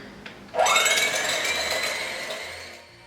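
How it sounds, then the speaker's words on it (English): Electric hand mixer whisking a cloud bread mixture of egg whites, switching on abruptly and running as a steady, loud whir that gradually settles, with no talking. "now I'm gonna go ahead and whisk it"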